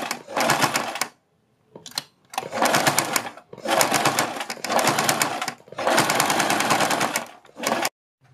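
A sewing machine stitching a fabric strip for a blouse or suit neckline runs in several close, rapid whirring bursts of a second or more, separated by brief pauses, with no talking.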